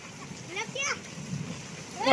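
Children outdoors in the first rain on a concrete road splash water thrown from a bottle, brief wet splatters close by, mixed with children's voices.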